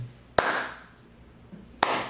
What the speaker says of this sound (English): give you a slow hand clap,